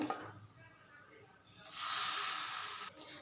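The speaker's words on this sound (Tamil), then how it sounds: "அதே மாவில் நம்ம தோசையும் ஊற்றி காட்டுறோம் பாருங்கள்" Dosa batter made from ration rice is poured onto a hot griddle. A quiet start with a soft voice gives way to a loud, steady hiss of sizzling that holds for over a second before cutting off.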